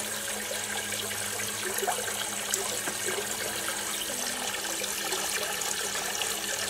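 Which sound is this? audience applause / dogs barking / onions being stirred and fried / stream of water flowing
stream of water flowing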